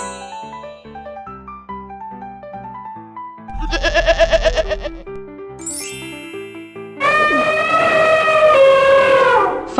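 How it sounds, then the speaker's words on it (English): A cartoon goat bleats over a bouncy children's song, a drawn-out, wavering cry near the end that stands out loudly above the music after earlier chimes and jingles. "Goat."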